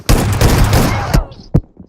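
Rapid video game gunfire in a mobile shooter bursts out in a loud fusillade, dense shots for about a second, then two sharp separate cracks after a short pause.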